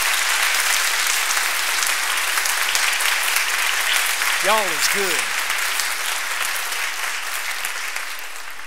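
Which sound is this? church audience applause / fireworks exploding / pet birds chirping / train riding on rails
church audience applause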